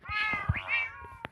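A pet cat lets out one long, rising and falling meow, close by, with a few soft knocks around it.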